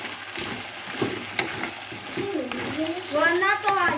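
Spices and potatoes being stirred in a pan, a low frying hiss with scattered scrapes under steady talk, and a voice rising near the end.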